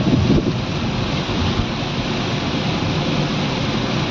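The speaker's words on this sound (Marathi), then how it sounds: "बघा कचरा घाटाला पाऊस केवढा आहे." Heavy monsoon rain pours onto a moving car on the Kasara ghat road in fog, a loud, constant, broad rushing roar with no pauses.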